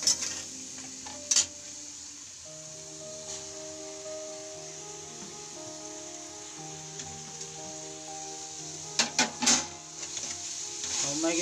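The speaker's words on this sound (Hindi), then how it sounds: "और मैगी को अच्छी तरह से मिक्स करेंगे।" Masala Maggi noodles being mixed in a pan with a spoon: a few scraping and clinking strokes at the start and near the end, separated by a long stretch of quiet cooking hum with faint sizzle.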